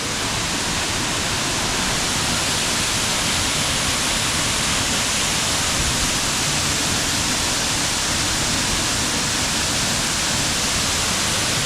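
Glen Ellis Falls on the Ellis River in New Hampshire pours in a dense, unbroken roar of falling water, loud and near, holding steady throughout with no voices.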